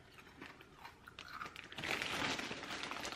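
Special K or Frosted Flakes cereal is crunched and chewed close up, with soft bites at first, then a denser, louder burst of crunching.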